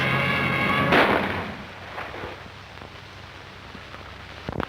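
Gunfire: one loud, close blast near the start, then a few fainter scattered shots and a sharp final crack.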